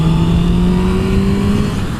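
A Honda CB650F motorcycle engine drones loud and close as the throttle opens, its pitch climbing slightly in a sustained roar.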